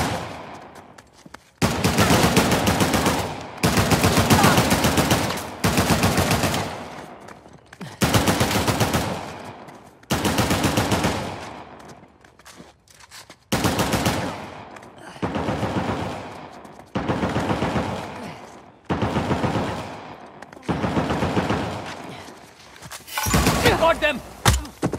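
Gunfire in the video game Uncharted: The Lost Legacy during a jungle firefight, heard as loud, sustained automatic bursts repeating every couple of seconds with brief gaps between volleys.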